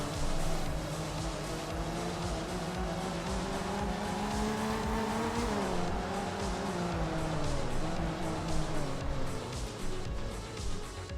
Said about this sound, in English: And skidding like crazy.